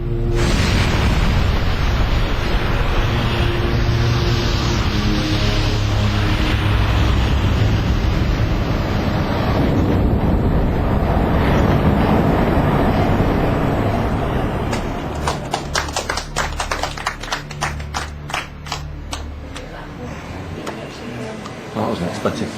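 A Rolls-Royce jet engine on a test stand roars at full power through a blade-off test, a loud, continuous, dense blast that then drops into sputtering, crackling rattles as it is destroyed.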